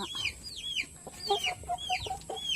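Chickens cluck and chatter at close range in their coop at feeding time, with several overlapping calls and short squawks in quick succession.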